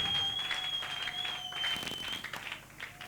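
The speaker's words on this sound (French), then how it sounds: "Est-ce que nous pouvons acclamer pour nous-mêmes maintenant?" A church congregation at a Gabonese revival service in Libreville claps and cheers together, steady applause from a crowded room with a faint tone running under it.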